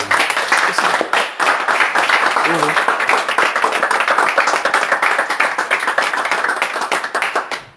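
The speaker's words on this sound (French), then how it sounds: "Applaudissons pour le Seigneur." A church congregation claps hands for the Lord in a loud, dense, continuous patter of close claps throughout, with voices mixed in underneath.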